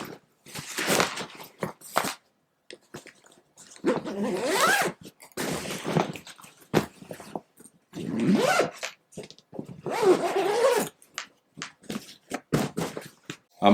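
A zipper runs around a suit travel bag packed with two suits and shoes, in several separate close bursts of ripping zip sound with short pauses between, fairly quiet overall.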